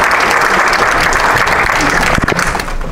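An audience claps for the Consul General at a church anniversary celebration in Yonkers, New York, a dense, loud burst of applause that thins toward the end.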